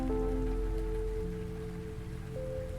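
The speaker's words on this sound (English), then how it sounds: "raindrops splash her face through a gap in the window" Rain from the video game Arknights spatters through a gap in a car window, a steady soft patter under sustained low musical tones, with no voices.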